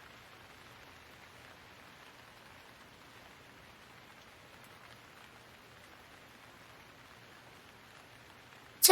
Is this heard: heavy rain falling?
yes